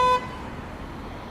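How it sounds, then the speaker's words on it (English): A single brief car horn toot sounds close and loud on a Toronto city street, cutting off abruptly into steady traffic and road noise. "Honk."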